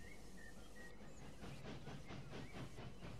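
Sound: through train running in EEP railway simulator video game

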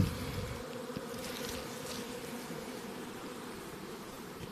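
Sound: honey bee swarm flying into hive

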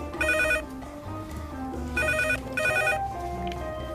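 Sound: telephone ringing

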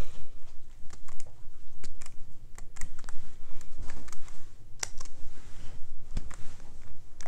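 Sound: typing on a computer keyboard

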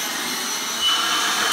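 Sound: vacuum cleaner as advertised on TV running

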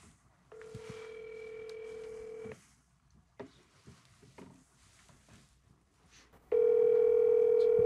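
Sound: telephone ringing tone

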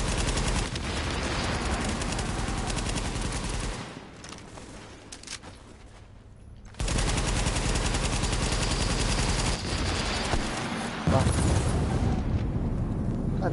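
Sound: grenade explosion and gunfire in the video game The Division

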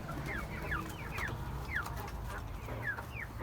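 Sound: chickens clucking in a coop

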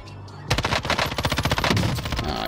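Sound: gunfire in the video game Call of Duty Warzone Rebirth

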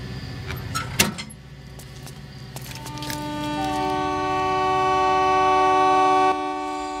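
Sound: train at a station

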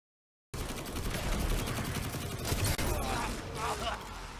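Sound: sniper rifle gunfire in a video game

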